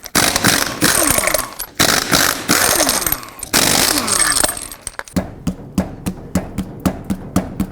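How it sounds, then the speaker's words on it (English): Impact-style power tool removing six lug nuts with a 21mm socket on a raised 2001-07 Toyota Sequoia front wheel, loud sustained rattling bursts followed by a series of short regular clicks near the mic. "take off all 6 lug nuts using a 21mm socket"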